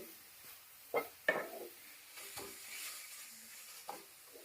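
Coconut and date-palm jaggery filling stirred in a pan for patisapta, giving quiet scraping strokes with a few sharper clacks and a soft sizzle between them, with no talking.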